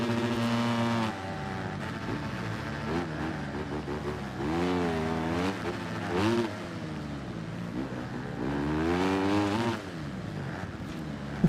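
The engine of a 250 dirt bike in Monster Energy Supercross 25 drones and bogs down in fourth gear, its pitch rising and sagging in repeated waves, loud and continuous.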